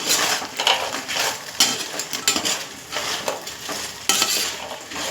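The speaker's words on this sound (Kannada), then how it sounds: "ಇದಕ್ಕೆ ಎಣ್ಣೆಲಿ ಕರೆದಿರೋ ಎಲ್ಲನೂ ಹಾಕ್ಕೊಂಡು ನೀಟಾಗಿ ಮಿಕ್ಸ್ ಮಾಡೋಣ" Fried baby corn manchurian being stirred in a pan, with a steady scraping and clinking of a utensil against metal over a soft sizzle, close and continuous with periodic louder scrapes and no talking.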